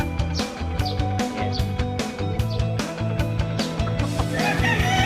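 Loud, busy chorus of chickens clucking and roosters crowing, overlapping calls close by without pause.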